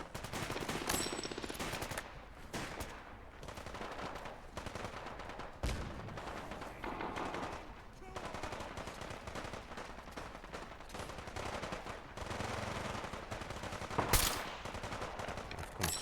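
Gunfire in the video game Fallout: London: sustained rapid automatic fire and scattered shots over a continuous noisy battle, steady and dense throughout, with a sharper loud burst near the end.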